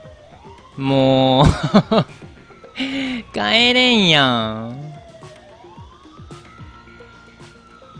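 A police car siren in the video game Thief Simulator wails loudly in rising and falling sweeps, then fades into a softer distant tone while someone talks over it.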